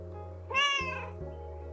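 A single cat meow from the video game Calico, short and clear, rising briefly over a steady low electronic hum of game music.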